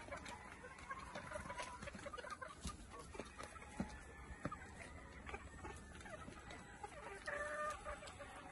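Chickens clucking nearby with a rooster crowing, the calls repeating irregularly over a faint outdoor background.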